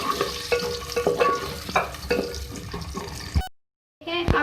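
Onions sizzling in hot oil in a karahi while preparing beef keema karela, a steady busy frying hiss with stirring clatter, briefly cut off near the end before the sizzle resumes.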